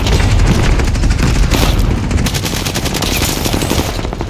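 Bren light machine gun in a video game firing sustained rapid bursts, loud and dense, with a steady chattering rhythm and booming impacts throughout.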